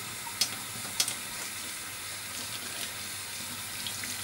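A bathroom tap runs steadily into a sink while a shaving brush is wetted for lathering cream, with a couple of sharp splashes or clicks early on.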